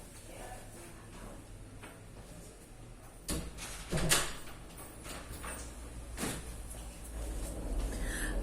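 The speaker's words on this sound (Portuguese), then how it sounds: "Espera aí, gente, que a porta abriu sozinha, rapidinho." An unlocked door blowing open on its own in the wind, heard as a couple of sharp knocks and a bang midway through, with a softer thud later over steady room noise and a low hum.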